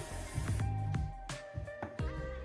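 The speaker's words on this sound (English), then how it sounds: "So I'm going to be using this spray wax" Several short bursts of spray wax hissing from an aerosol, a few quick pumps spaced irregularly over background music.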